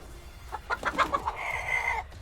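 Stream alert effect for a luxury pigeon: a run of clucking, chicken-like bird calls ending in a sustained squawk, loud and up close, with no talk over it.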